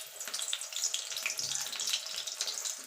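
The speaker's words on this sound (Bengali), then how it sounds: "আমি দুটো দুটো করে ভেজে নেবো" Eggplants fry in hot oil in a pan, giving a steady, even sizzle and crackle that holds at moderate loudness throughout, with no voices.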